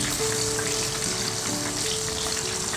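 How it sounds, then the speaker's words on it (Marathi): Paneer cubes for paneer popcorn fry in hot oil on lowered flame, a dense continuous sizzle and bubbling, loud and close throughout, with no talk. "झाले तळून छान."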